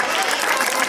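Audience applause at a school annual day function, a brief dense burst of clapping filling the hall, fairly loud and continuous.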